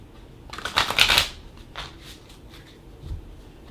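A deck of tarot cards is shuffled close by. A quick burst of riffling cards is followed by a softer flick and a faint thump, with no talking over it.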